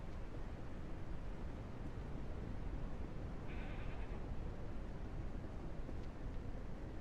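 In the Ranch Simulator video game, a goat gives one brief, faint bleat midway, nearly buried under a loud, steady hiss of broadband noise.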